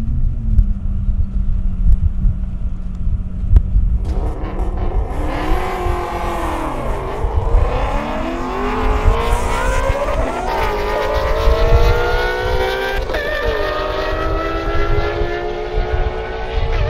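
A Lamborghini Aventador accelerates hard at an airstrip race, its engine note climbing through several rising gear pulls as it passes nearby, loud and alone over a rumbling background.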